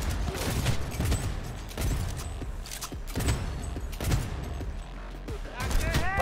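Gunfire in Cyberpunk 2077, repeated bursts of shots in an ongoing firefight, loud and rhythmic with brief gaps, mixed with game effects and faint voices.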